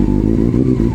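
A Honda CB400 Super Four four-cylinder motorcycle engine revs close up, loud and steady with a rapid pulsing exhaust note and slight rise and fall, no voices.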